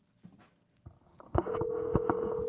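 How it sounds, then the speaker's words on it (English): A telephone rings during a podcast call, a steady electronic tone sounding close after a few thuds and clicks, with brief pulses breaking it. "The ringing's gonna be great for the listeners"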